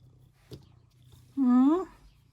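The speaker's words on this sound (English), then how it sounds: "Hear him purring." Soft, steady low purring from a cat runs close by throughout, with a brief higher voiced sound rising and falling midway.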